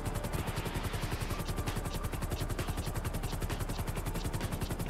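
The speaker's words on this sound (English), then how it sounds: "I see a helicopter." A helicopter in the GTA video game, with a steady rapid rotor chop and engine drone holding at constant loudness throughout, close and unbroken, with no talk over it.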